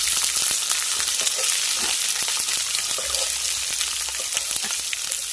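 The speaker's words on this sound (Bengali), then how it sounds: "পেঁয়াজটাকে নরম করে ভেজে নেব" Chopped onions fry in hot oil with dried red chillies for Bengali tita, a steady close sizzle with scattered crackles and light utensil scrapes, no talking.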